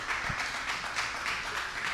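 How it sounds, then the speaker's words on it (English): An audience gives steady, moderately faint applause, a dense even wash of many hands clapping at a distance, with no voices over it. "Y'all can clap it up for that."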